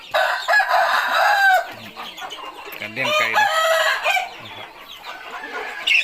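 Several fighting-cock roosters crow in overlapping calls at a gamecock farm, with scattered clucking from other chickens in between, fairly close and loud.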